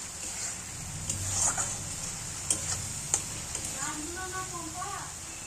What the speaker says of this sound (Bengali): এবার দিয়ে দেব এর মধ্যে ভেজে রাখা চিংড়ি মাছগুলো। একটু নাড়াচাড়া করব।